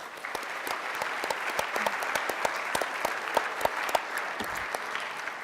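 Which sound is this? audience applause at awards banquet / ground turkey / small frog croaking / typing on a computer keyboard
audience applause at awards banquet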